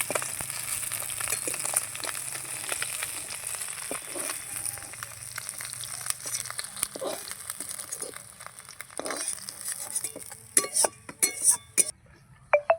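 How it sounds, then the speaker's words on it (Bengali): River fish fry in oil in a pan with a steady, bright sizzling hiss. Scattered clinks of a utensil against the pan grow louder toward the end as the pieces are lifted out. "মাছগুলো আমার লাল লাল করে ভাজা হয়ে গেছে, আমি তুলে নেবো"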